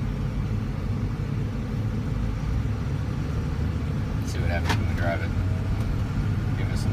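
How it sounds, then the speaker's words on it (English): A car with a turbo pulls away on a diagnostic drive, its engine a steady low rumble with road noise that builds slightly, with a brief higher whine and flutter near the end. "Let's see what happens when we drive it."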